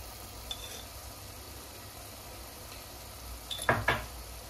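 Tomato paste and onion sizzling and frying in a pan, a steady low hiss with a brief burst of louder stirring and spattering near the end, no talking.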